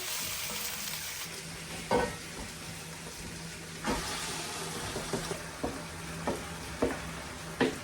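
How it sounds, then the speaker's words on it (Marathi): Meat for a Goan vindaloo fries in a hot pan with a constant loud sizzle, while a spoon stirs it in periodic scraping knocks against the pan, close and without talk. "आनी आतां तितून मास घालता"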